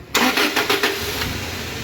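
Toyota Hilux with a 2TR engine cranking and catching, a few rhythmic starter pulses then settling into a steady idle, loud and close with no talk.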